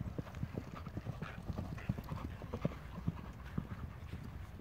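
Horses walk in the open, their hooves clip-clopping in a steady, quiet, somewhat distant rhythm with no talk.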